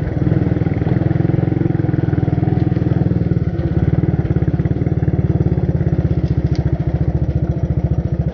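Honda 200 motorcycle engine running steadily and loudly throughout as it rides along a trail at night, a continuous close mid-pitched drone with rapid clattering pulses and no voices.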